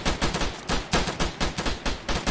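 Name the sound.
gunfire in the video game Arma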